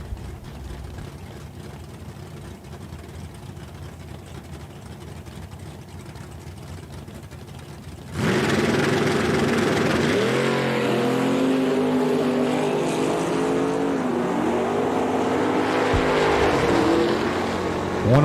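Drag racing cars, including a Camaro, run at Eddyville Raceway Park: a steady low background rumble gives way abruptly to a loud, roaring engine note that holds close and strong with rising pitch sweeps.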